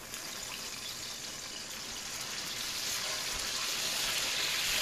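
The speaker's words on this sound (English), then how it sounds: "Slowly add some liquid." Liquid pours slowly and steadily into gravy in a cast iron pan while cube steak cooks, giving a continuous close wash of splashing and sizzling that builds slightly in loudness.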